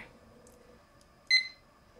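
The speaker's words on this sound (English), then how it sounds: "So I'm starting the kitchen timer." A kitchen timer being started gives one short, bright electronic beep in an otherwise quiet room, close and clear.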